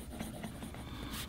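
A Sheaffer Touchdown fountain pen with a Triumph nib, from about the early 1950s, writes on paper, giving a continuous close, soft scratching with small stroke-by-stroke pulses.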